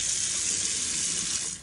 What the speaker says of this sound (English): Let's go in the sink, turn it on, and then put more water.